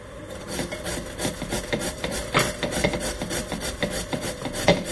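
A knife cutting a tomato, a run of quick rhythmic chopping strikes on a board, close and fairly loud, with faint kitchen rustle in between.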